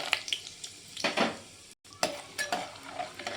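Peanuts frying in oil, a soft sizzle under several scraping stirs of a spoon against a pan, close by, with a brief cut of silence midway.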